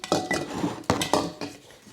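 A spoon scrapes and clinks against a dish while sour cream apple pie filling of apples, cinnamon, sugar and sour cream is mixed, in several close, uneven bursts with no voices.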